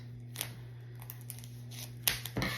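Scissors cutting into a cardboard package, a few sharp snips spread out and close, over a steady low electrical hum.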